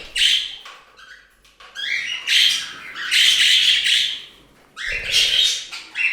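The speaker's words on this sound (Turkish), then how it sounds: "Ötmeye başladı pastel." Pastel, a pet budgerigar kept in a bird room with other budgies and parrots, sings in loud, close bursts of squawks, chirps and warbling chatter separated by brief pauses.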